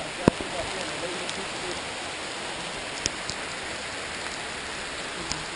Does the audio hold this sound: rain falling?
yes